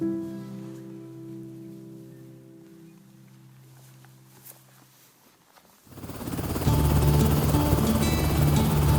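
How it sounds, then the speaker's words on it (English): A helicopter flies in from Murchison, first as a faint, distant drone that builds into a loud, close rotor roar over the last few seconds, with no talk. "So the helicopter was coming from Murchison"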